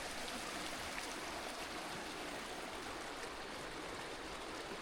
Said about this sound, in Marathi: हे इथून पाणी उडत आहे